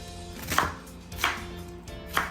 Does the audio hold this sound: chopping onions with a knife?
yes